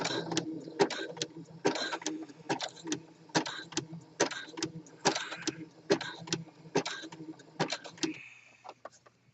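Sewing machine runs in short repeated bursts of rapid stitching, pausing between runs, while rubber elastic is sewn onto swimwear fabric; a close, fairly quiet mechanical chatter with a faint hum.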